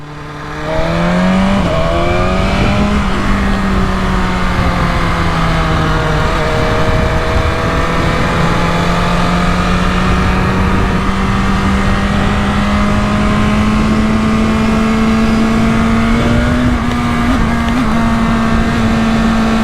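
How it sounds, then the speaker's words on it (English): A loud BMW S1000RR superbike engine revs continuously with a rising and falling exhaust note, a steady harmonic drone that climbs in pitch, with no talking. "I think you are gonna be obsessed with the exhaust on this bike"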